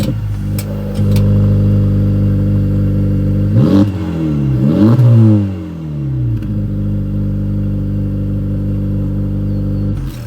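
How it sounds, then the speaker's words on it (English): A 2024 Acura Integra Type S with a 2-liter turbocharged engine and three tailpipes revs loudly and close, its exhaust rising and falling in a couple of quick blips before settling into a steady drone. "3 tailpipes, which not only look good, but also sound great with some pops and crackles thrown in"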